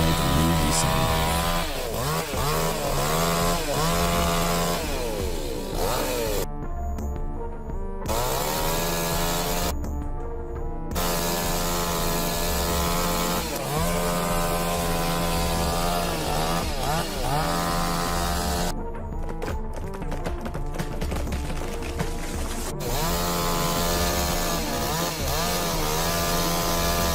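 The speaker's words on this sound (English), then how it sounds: "The sound of the saw is so satisfying as to give the logging world a new lease on life." Chainsaw cutting trees during logging, a steady dense engine drone running loudly throughout with shifting pitch as the saw bites into wood.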